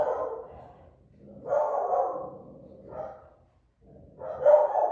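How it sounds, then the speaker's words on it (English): Dogs bark faintly in the distance in several muffled bursts, heard indoors with a quiet low background. "I apologize if you can hear my dogs barking."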